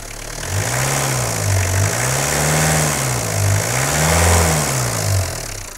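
Car engine revving after its crankshaft damper pulley was replaced, three smooth rising-and-falling revs over a steady idle, close and loud, with no squeal or other noise heard.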